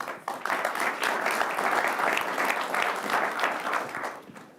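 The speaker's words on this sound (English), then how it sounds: "Big round of applause to our today's panel." A room full of people at the 2017 Davos World Economic Forum panel claps steadily, a sustained round of applause that fades slightly at the end.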